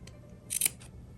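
Scissors cutting fabric for a patchwork project: one short, crisp snip-and-slide, close and quiet, with no talking.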